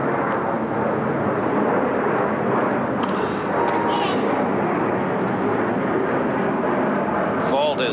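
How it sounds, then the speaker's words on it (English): A loud, continuous roar of an airplane passing over a Wimbledon tennis match fills the whole clip, a broad rumbling wash with faint crowd noise underneath. "The noise of the airplane overhead drowning out that announcement."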